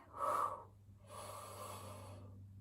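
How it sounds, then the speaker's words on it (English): A person takes deep breaths while holding an L-sit core exercise, with one strong inhale followed by a long, steady exhale, close and fairly soft. "Deep breaths here."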